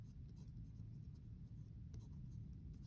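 Names are written out by hand with faint, soft pen strokes on a surface, close but quiet under a steady low background hum.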